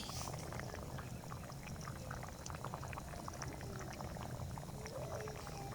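Katla fish curry with potato and cauliflower and chopped coriander bubbling in a pot, a soft, continuous, close simmer with fine popping.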